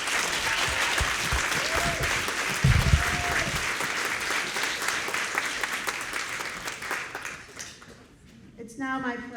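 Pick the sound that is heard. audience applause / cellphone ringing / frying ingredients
audience applause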